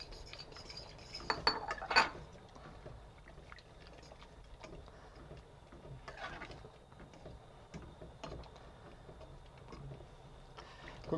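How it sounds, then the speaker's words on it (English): A spoon stirs beaten egg into Greek avgolemono chicken soup in a pot, with a few faint clinks early on and then quiet, soft scraping and movement. "And now I'm going to add the egg. And we are going to mix it up."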